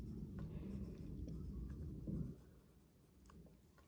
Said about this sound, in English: I'm going to give myself a bullet point, and I'm going to write down